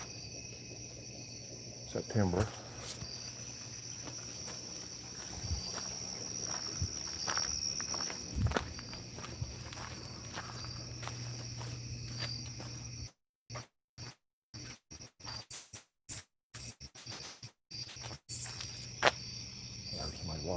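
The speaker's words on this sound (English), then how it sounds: "Crickets aren't loud tonight." Crickets chirp steadily at night in mid-September, a faint continuous insect trill under occasional footsteps and rustling, with a person speaking partway through and brief dropouts near the end.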